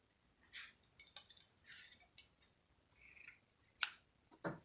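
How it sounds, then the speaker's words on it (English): Scissors snipping through fabric while a no-sew face mask is made, giving a series of short, crisp cuts and rustles spread across a quiet stretch, with a sharper snip near the end. "Cut off the piece with the seam"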